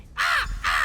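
Two loud, close, rasping crow caws in Elder Scrolls Online, each a drawn-out harsh call, separated by a short pause.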